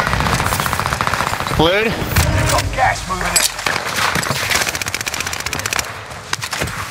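Rapid automatic gunfire rattles through a Warzone match, loud, close and nearly continuous, with bursts stacking on each other while a player speaks briefly over the shooting.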